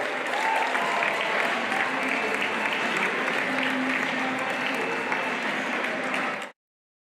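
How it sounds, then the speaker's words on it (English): A large crowd at a girls' basketball game applauds loudly and continuously, a dense wash of clapping that holds steady before cutting off abruptly near the end. "How about one final round of applause for our 2 state championship programs"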